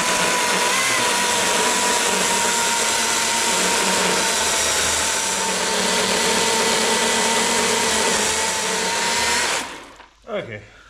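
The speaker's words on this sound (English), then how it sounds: "Chainsaw." A Milwaukee chainsaw cuts into an ambrosia maple log at a sawmill, a loud sustained high-revving whine and rasp for about ten seconds before cutting off into brief quieter sounds.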